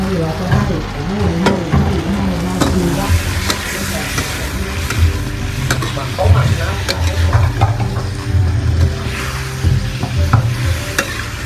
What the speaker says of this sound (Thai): ผัดต่อไปอีกสักพักจากนั้นก็เอาปลาที่เราได้ลวกเตรียมไว้แล้วใส่ลงไปผัดต่อได้เลย